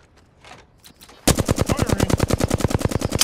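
After a quiet start with faint game sounds, a loud, sustained burst of rapid automatic weapon fire in the Apex Legends video game rattles steadily to the end.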